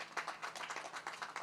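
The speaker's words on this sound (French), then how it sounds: "Applaudissez quand même," Brief, fairly quiet applause from a small gathering at the inauguration of a Lukunga and Malemba district office led by the burgomaster, with scattered claps in an uneven patter.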